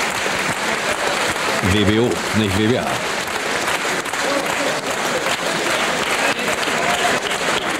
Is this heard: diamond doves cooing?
no